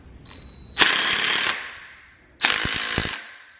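A ratchet tightens a nut onto a Honda Civic coilover in two quick, loud bursts of rapid clicking, each lasting under a second, close up with a pause between.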